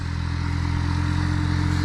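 A Valtra Valmet 700 tractor with a three-cylinder engine runs at a steady idle close by, giving a continuous low throbbing drone with mechanical clatter and no talk.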